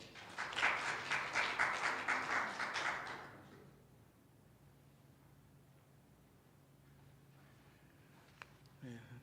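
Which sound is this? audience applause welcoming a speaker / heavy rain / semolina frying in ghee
audience applause welcoming a speaker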